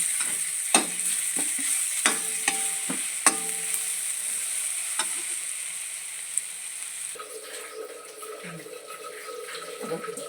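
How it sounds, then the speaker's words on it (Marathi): Potatoes fry in a small amount of oil for bhaji, giving a steady sizzle broken by sharp clicks and scrapes of a utensil stirring in the pan. "थोडंसं तेल टाकते जास्त नाही टाकत थोडंसं टाकते छान तळून येते"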